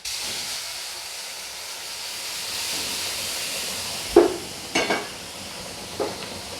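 Boiling water pours into a pan of roasted wheat flour for halwa with a soft steady hiss and sizzle, followed by a few short scraping stirs.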